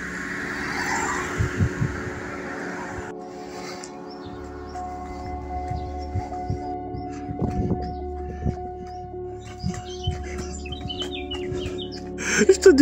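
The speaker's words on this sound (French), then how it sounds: "Attendez, je vais laisser passer les voitures." Cars pass along a road in a French town, a low steady rumble of traffic rising and fading, with birds chirping and faint distant voices behind it.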